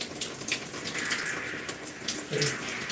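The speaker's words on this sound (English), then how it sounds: "And then I'm going to add some water to the bottle." Water is poured into a bottle during a wash-and-go hair routine, making a steady hissing, splashing rush with a few small bright drips, close and moderately quiet.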